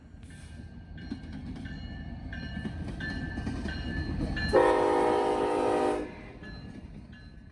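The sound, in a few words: Norfolk Southern intermodal freight train passing with horn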